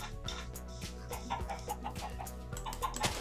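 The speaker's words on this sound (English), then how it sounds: "look, chickens." Chickens cluck in a video game, several short clucks scattered over a steady bed of background music and game ambience.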